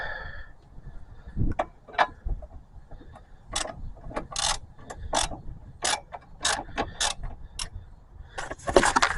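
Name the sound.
box end wrench tightening brake caliper bracket bolt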